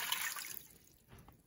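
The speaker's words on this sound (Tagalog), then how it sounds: "Ilagay natin yung tubig." Water is poured into a cooking pot with a brief splashing, trickling rush that fades within about a second, close and moderately loud.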